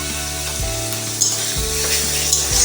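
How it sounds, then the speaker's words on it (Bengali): Onion paste salted and frying in oil hisses in a steady, loud, close sizzle, with a low hum underneath and faint stirring touches. "পেঁয়াজটাকে ভালো করে লাল লাল করে কিন্তু ভেজে নিতে হবে"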